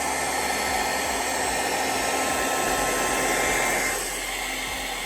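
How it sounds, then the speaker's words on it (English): A hair dryer blows continuously over resin with a loud, even whooshing roar, easing slightly toward the end. "Now I'm just going to use the hairdryer"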